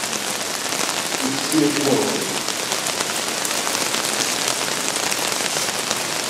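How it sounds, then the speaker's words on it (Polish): Steady rain falls over an outdoor gathering at Saint Anne's Mountain, a continuous broadband hiss that runs through the whole stretch, with a brief murmur of voices partway through. "Pan Bóg daje ziemi deszcz"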